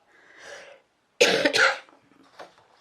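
A faint throat sound, then two sharp, close coughs in quick succession, followed by a quiet breathy trail.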